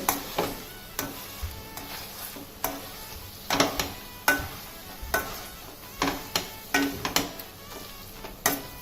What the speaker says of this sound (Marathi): हे आपण आता स्मॅशरने स्मॅश करून घेऊया.